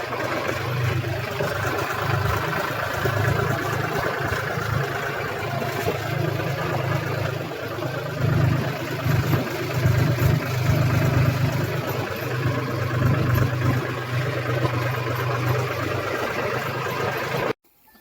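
A tractor engine idles steadily and close by, giving a constant low rumble with a loud, unchanging drone that stops abruptly at the very end.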